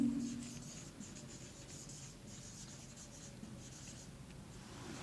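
Pen scratching across paper while writing definitions during a physics lesson on physical properties, a steady close rasp running continuously for several seconds.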